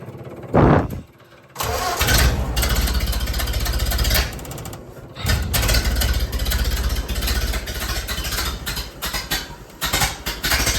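A 1929 Ford Model A Tudor sedan hot rod with a side exhaust muffler cranks with a short burst, falls quiet for a moment, then catches and runs rough and loud. The idle surges and blips unevenly close by.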